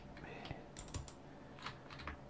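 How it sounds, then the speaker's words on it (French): Soft, close keyboard taps and mouse clicks come in scattered bursts during a Rocket League game, quiet under a low room hiss. "on n'entendra pas trop les bruits de clavier de souris"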